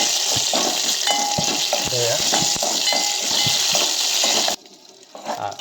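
A tempering of asafoetida in hot oil for a sambar, sizzling loudly and steadily with stirring scrapes and knocks, then dropping off abruptly near the end to a quieter hiss.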